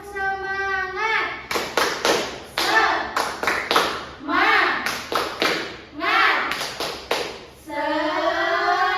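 Children perform a rhythmic tepuk semangat clapping chant in a classroom, bursts of quick claps and taps alternating with chanted voices in a steady patterned rhythm, close and lively.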